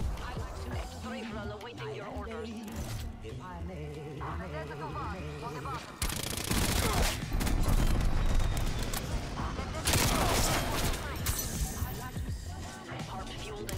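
A Strafe Run scorestreak in Call of Duty: Black Ops Cold War fires a loud, dense barrage of gunfire and explosions in the second half, under game music and someone talking throughout.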